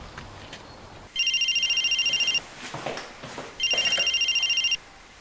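A telephone rings while the last number is being redialed: two bursts of electronic ringing separated by a pause, clear and fairly close, with faint background noise between them.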